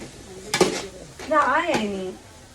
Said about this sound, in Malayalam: മല്ലിപ്പൊടി എടുത്ത് വറുത്താം